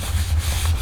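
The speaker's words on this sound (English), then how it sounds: "rub it down, make sure everything is adhering like it should" Glued paper on a sticky note pad holder being rubbed down firmly by hand, a close, continuous dry rasping friction sound under a low rumble, lasting just under a second.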